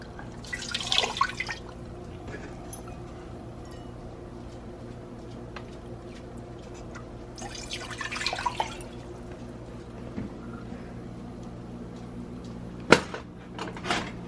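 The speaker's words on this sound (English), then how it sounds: "So I'm gonna put 1 pound of water in." Water is poured into a container for a sugar syrup, heard as two short splashing bursts with faint drips in between, in a quiet room.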